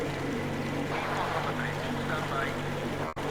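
A boat engine drones steadily in Metro Exodus, a continuous low hum with water wash underneath, and voices speak over it, ending with a sharp brief dropout near the end.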